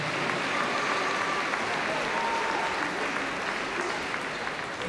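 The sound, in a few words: audience applause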